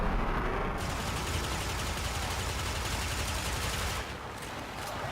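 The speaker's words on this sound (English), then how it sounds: "Pretty much like the arc stiletto that I'm using in this mission." Rapid automatic fire from the Arc Stiletto pistol in the video game Warframe, a continuous dense burst of shots with no talk, pausing briefly near the end before resuming.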